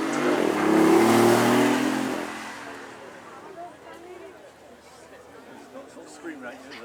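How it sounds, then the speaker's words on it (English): A BMW i8 hybrid supercar, pairing a combustion engine with an electric motor, sweeps past at a supercar weekend, its engine swelling loudly for about two seconds and then fading away, leaving crowd chatter and faint background noise. "i8, which combines that internal combustion engine with an electric motor"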